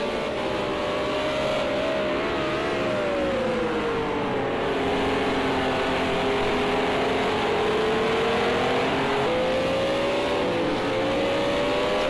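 Renault RS 01 race cars in Project Cars 2 braking hard into a turn, a loud steady engine drone with gliding pitch as revs fall and rise, continuous and close throughout.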